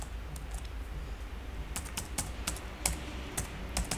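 Someone types a code comment on a computer keyboard, producing steady, close key taps in uneven runs over a low background hum, with no talking.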